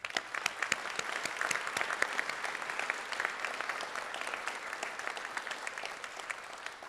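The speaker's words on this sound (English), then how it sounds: "We can take a moment to thank them with a round of applause" An audience at a nurse pinning ceremony gives a steady round of applause, with dense, even clapping from a large crowd heard at a moderate distance throughout.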